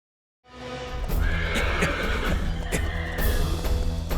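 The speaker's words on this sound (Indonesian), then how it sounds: "Kuda ini tidak mau diam." A horse neighs loudly and close, a long whinny over stamping hooves and restless shuffling that continues to the end.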